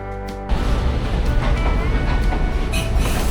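A rumbling local train runs toward Machu Picchu in Peru, its continuous loud rolling roar rising abruptly and carrying rattles and faint wheel squeals, with no speech.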